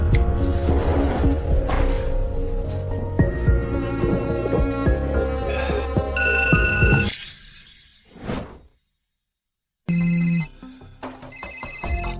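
A telephone rings in the middle of the night in a dramatized scene. The ringing comes in near the end with bright, repeated electronic tones, after a stretch of loud music and a short silence.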